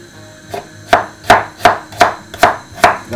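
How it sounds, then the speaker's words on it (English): Rhythmic knife chops through vegetables on a cutting board, about seven crisp strikes at a steady pace, close and clear with no talking. "let's start chopping up some veg"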